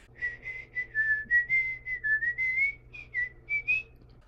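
A person whistles a folk song melody alone, a run of clear sustained and gliding notes with brief breaks, close and moderately loud over a faint low hum.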